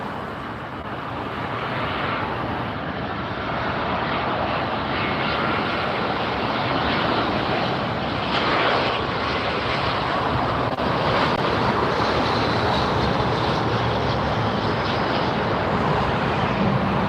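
Turkish Airlines airliner at LAX, its engine roar loud and sustained throughout, mixed with broad wind noise on an open hillside.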